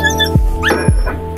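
Puppies from a stray-dog catching round give sharp yips and whimpers, three close, loud cries in quick succession.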